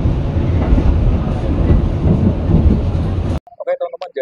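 A Taksaka New Generation executive train running, heard from inside its restaurant car: a loud, steady low rumble and rattle for over three seconds, then cutting abruptly to near quiet with a few faint clicks.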